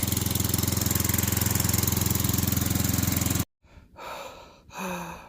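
A Keen 151s drywasher processes dirt in the Arizona desert, a loud, steady mechanical drone with rapid rattling vibration from its shaking hopper that runs continuously, then cuts off abruptly and is followed by quieter scraping and shuffling sounds.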